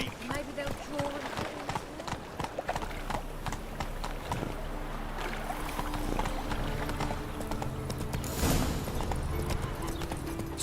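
Roach the horse gallops in a video game, a fast, steady run of hoof clip-clops with rhythmic thuds, close and continuous, under game voices and background sound.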